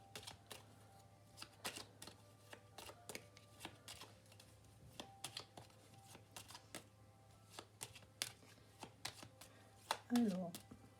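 Small cards are shuffled by hand close up, soft repeated riffling flicks over a low hum, with brief speech near the end.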